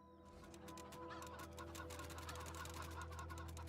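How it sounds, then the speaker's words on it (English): Cyborg chickens clucking in the video game Wasteland 3, a steady flurry of overlapping clucks over a constant low mechanical hum, fairly faint. "Now, we rescued all the cyborg chickens."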